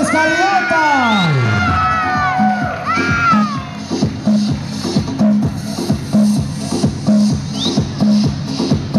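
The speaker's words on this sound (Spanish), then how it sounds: "A ver una bulla del barrio Las Escalinatas" A crowd of neighbourhood residents of barrio Las Escalinatas cheers and shouts at a Christmas cultural event and girls' pageant, loud whoops giving way to a sustained, rhythmic crowd roar with steady chanting pulses.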